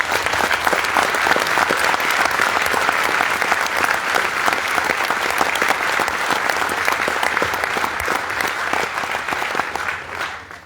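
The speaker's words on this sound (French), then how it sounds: "je vous propose de les applaudir." Audience at a French municipal council installation session applauds the town staff, a long, loud, steady round of dense clapping that fades out in the final second.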